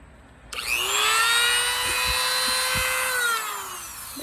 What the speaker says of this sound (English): What did work for me